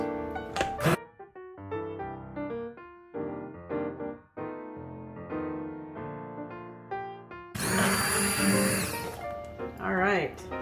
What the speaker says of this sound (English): I'm going to carefully blend this up with my immersion blender.